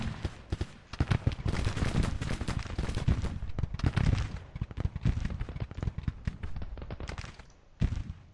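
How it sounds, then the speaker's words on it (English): Troops open fire in Grand Tactician during a Confederate fight over D.C., dense overlapping gunshots crackling almost nonstop in a loud, continuous volley with brief lulls. "start shooting at them"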